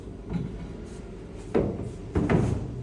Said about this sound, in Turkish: Birçok dolabın cam çekmecesi oluyor. Şu şekilde çapraz buraya sokuyoruz.